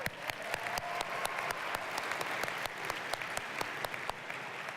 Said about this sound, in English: I just think you need to give yourselves a warm applause for being here